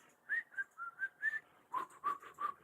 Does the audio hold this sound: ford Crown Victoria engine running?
no